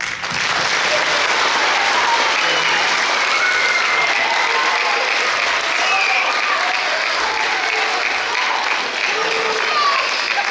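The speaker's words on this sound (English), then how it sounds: "Can you clap for you all?" Students and teachers at a school state-test pep rally applaud loudly and continuously in a large crowd, with cheering voices mixed into the steady wash of clapping throughout.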